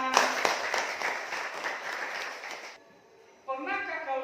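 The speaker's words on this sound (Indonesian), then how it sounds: "Tepuk tangan." Applause rises from a classroom group during a Christian religion lesson, a dense patter of many hands that cuts off abruptly, followed by a pause and then a speaking voice.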